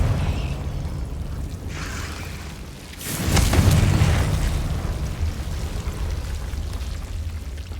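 Confringo fire spell in the video game Hogwarts Legacy, a sudden loud blast that bursts out of a rumbling low background and trails off into a sustained roaring wash.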